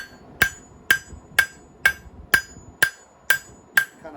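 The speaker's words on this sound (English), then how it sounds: "you're not really moving it that much anymore, but you can with lighter taps" A hammer lightly taps hot steel while a knife blade is forged, eight evenly spaced, ringing metallic strikes about half a second apart, close and clear with no talk.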